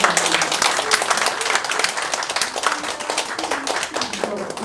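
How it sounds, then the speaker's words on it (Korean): An audience claps at a meeting of National Assembly education committee members, a dense burst of many hands that thins slightly toward the end, with a voice speaking over it. "여러분 박수 한번 쳐주셔야 될 것 같습니다."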